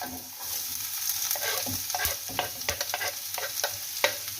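Chopped onion frying in a little olive oil in a frying pan, a steady nearby sizzle broken by repeated scraping stirs, with no voices.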